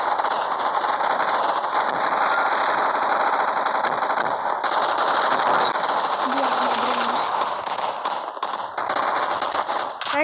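Rapid automatic gunfire from an arena gun-fight video game rattles almost continuously in long sustained bursts, loud and dense, with brief breaks near the middle and end and faint voices underneath.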